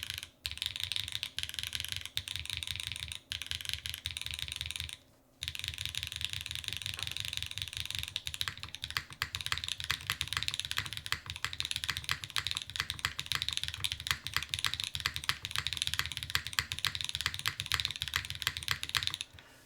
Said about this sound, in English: Shall we give this a little typing test here? We're doing aluminum plate.